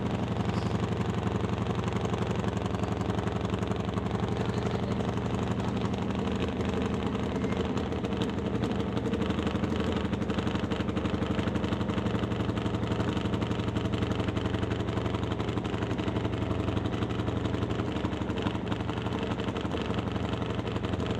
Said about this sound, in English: So Pete Waugh is checking the idle on the Top Fuel Harley.